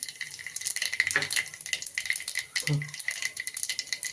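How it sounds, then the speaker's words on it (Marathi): Mustard seeds and cumin crackling in hot oil with chilli pieces for a puffed-rice chivda tempering, close rapid popping and rattling spatters over a soft sizzle. "आपण मोहरी जिरं फोडणी करून घ्यायची"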